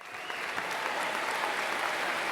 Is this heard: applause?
yes